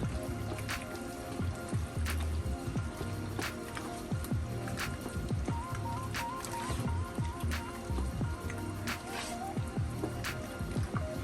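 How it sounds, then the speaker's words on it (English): Thick, creamy seafood mac and cheese stirred in a pot, with a steady run of wet squelches and soft spoon clicks against the pot, close and moderately loud, no talking. "Gonna give her a stir."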